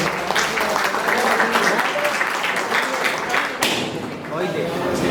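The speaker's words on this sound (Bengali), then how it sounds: "জোরে হাততালি হবে" Audience applause at a speech at a youth computer centre in Itahar, a dense, steady wash of many hands clapping that holds for several seconds, loud and continuous with a brief dip near the end.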